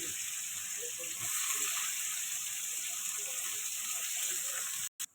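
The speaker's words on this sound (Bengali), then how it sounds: "এবার দিয়ে দেবো পেঁয়াজ কুচানো।" Chopped onion frying in a pan gives a soft, continuous hiss with light scattered crackles, fairly quiet and steady, with no voices.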